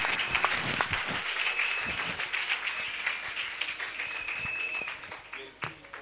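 A church congregation's applause and cheering rising in a broad wash, sustained for several seconds with scattered sharper claps, voices mixed in.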